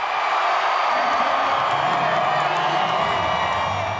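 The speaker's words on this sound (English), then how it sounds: "When the Panthers score, crowd energy peaks." Stadium crowd roaring at a Carolina Panthers home game at Bank of America Stadium after a score, a dense, sustained wall of cheering and whoops from thousands of fans, loud and continuous.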